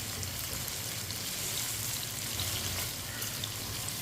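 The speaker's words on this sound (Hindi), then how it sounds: "भिंडी को ऐसे ही हल्के हाथों से मिक्स करते हुए पका लेते हैं। फ्राई कर लेंगे 3-4 मिनट" Okra coated in gram flour frying in a pan for besan bhindi, a dense continuous crackling sizzle like steady rain, close and even throughout with no talk.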